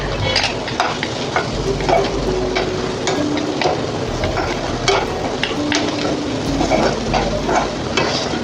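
Spices sauté in a hot pan for dal tadka as garam masala goes in, a loud, dense sizzle under frequent clattering stirs and scrapes of a spoon, close to the listener, no voices.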